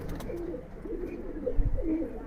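A male Giribaz pigeon with pearl-like eyes coos softly in repeated low rolling phrases, fairly close, with faint background noise.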